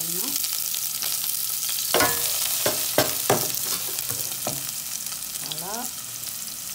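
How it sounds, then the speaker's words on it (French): Onion sizzles in heated oil, a steady close crackle broken by occasional stirring scrapes, with a brief spoken word near the end. "Je suis en train de chauffer un peu d'huile."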